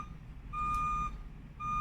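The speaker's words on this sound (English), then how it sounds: "I apologize greatly for the beeping in the background." A reversing-style beep sounds in the background, a steady high tone pulsing on and off about every second over low rumble.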